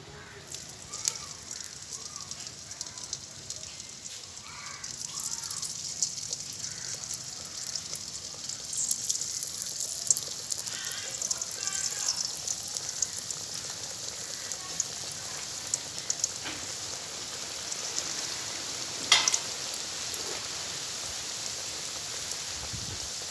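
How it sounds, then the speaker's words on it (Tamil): Steady crackling sizzle of Point Pedro vadai frying in hot oil, a continuous hiss with small pops throughout, fairly close and moderate in volume. "இப்போ எனக்கு எண்ணெய் கொதிச்சுட்டுது இதுக்குள்ளே தட்டின வடையெல்லாம் போடுவோம்"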